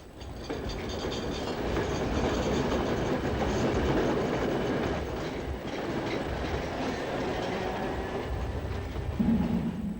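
A train runs along an elevated railway above the Dock Road in Merseyside, a sustained rumble with rhythmic wheel clatter and a brief squeal near the end, heard alone.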